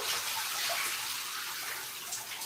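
Hot water gushes from a tap in a steady, close, hissing rush that holds an even loudness throughout, with no talking.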